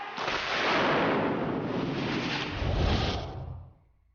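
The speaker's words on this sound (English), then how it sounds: "Blowing up the White House." A miniature model explosion for a film effect roars out as a dense, sustained blast of broadband noise, then rumbles and fades away after a few seconds.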